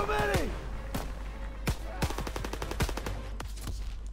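Rapid World War II gunfire from Call of Duty WW2 on Veteran cracks close and loud in an irregular string of shots, with a voice talking briefly at the start.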